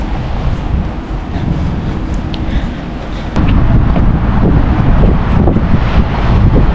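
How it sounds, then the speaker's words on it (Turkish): Strong wind buffets the microphone in a constant loud rumble on a St. Petersburg street, growing even heavier partway through, with no voices. "İnanılmaz bir rüzgar var bugün ya."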